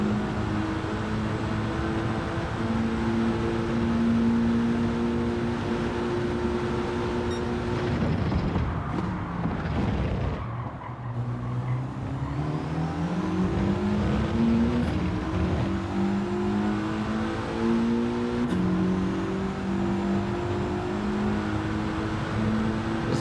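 Car engine in Gran Turismo 7 racing, revving hard with rising and falling harmonic sweeps and a brief dip as gears shift, loud and continuous throughout.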